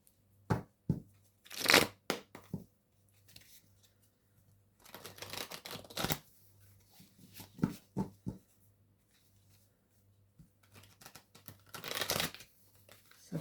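Oracle cards being shuffled by hand in irregular bursts of papery riffling and slapping, close and fairly quiet, with pauses between handfuls.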